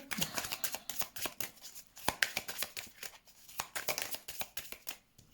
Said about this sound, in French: Trop de cartes qui tombent.